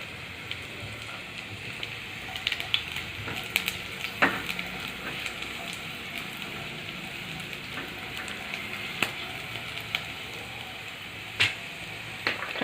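Green chillies and carrots hitting hot oil already holding garlic, for paneer chilli: a steady close sizzle with scattered sharp crackles and spits throughout, no voices.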